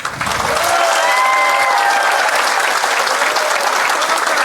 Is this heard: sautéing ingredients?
no